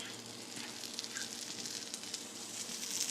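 Butter melting in an omelet pan gives a steady, soft, close sizzle with a gentle hiss throughout and no voices.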